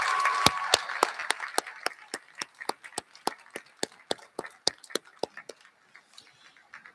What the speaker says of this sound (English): Graduates, let's give your parents a round of applause today